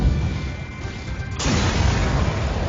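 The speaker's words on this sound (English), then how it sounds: "so the ship explodes" A spaceship in FTL: Faster Than Light blows up with a sudden loud boom about halfway through, leaving a dense, noisy rumble after a quieter hum.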